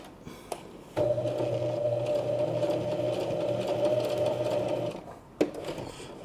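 A sewing machine stitches a coin purse in one steady whirring run of about four seconds, a close, even hum that starts abruptly and stops sharply, framed by a few small clicks and knocks.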